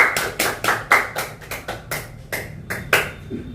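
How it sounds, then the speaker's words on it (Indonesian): About a dozen distinct, sharp claps ring out in a loose, uneven rhythm from a small group at a Gen Z discussion event. The hits are close and fairly loud, each followed by a brief decay, with no voices in between. "Oke, tepuk tangan lagi"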